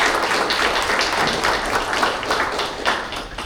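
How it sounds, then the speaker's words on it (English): An audience at a senior scam-prevention event in Upland applauds the city council, steady dense clapping from many hands that fills the room evenly, loud and continuous without voices over it. "We'll give a big round of applause to our City Council."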